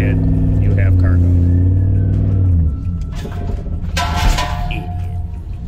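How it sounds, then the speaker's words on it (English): A pickup truck with a 3.5 EcoBoost engine drifts on snow-covered ground; the engine hums and surges with tire slip and rumble while a person talks over it. "Only good thing about all this snow on the ground is a little bit of drifting action."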